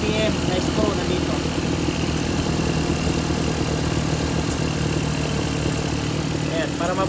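Toyota 4K engine idling during carburetor tuning, a steady low rumble running close and unbroken throughout, with someone talking over it.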